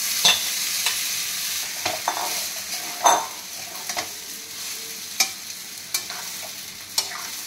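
Soaked sago pearls stirred into fried potatoes in a pan, a soft steady sizzle under repeated scraping and clinking stirs, close and moderately loud, no talking.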